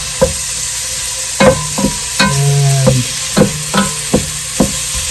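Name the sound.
breaking up onions while stirring in a pan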